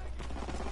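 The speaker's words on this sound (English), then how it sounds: "Enemy strafing run incoming." A brief burst of rapid gunfire comes from an enemy aircraft's strafing run in a WW2 video game, heard as dense, close, loud rattling shots with no pause between them.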